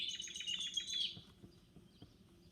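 A bright, rapid series of high bird chirps in a quick trill for about a second, followed by a few fainter scattered calls. The bird is an airmail bird in a children's Easter story reading, heard over a low background hum.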